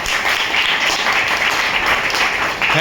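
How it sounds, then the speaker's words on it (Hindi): Loud, dense applause from an audience at a motivational team event, continuous clapping close up that holds steady for a few seconds before dipping slightly at the end. "इनके लिए जोरदार तालियां हो जाए"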